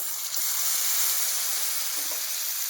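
Whole garam masala, bay leaves and cumin paste hit hot oil left from frying potatoes, giving a steady, close, loud sizzle and hiss with a couple of faint stirring knocks.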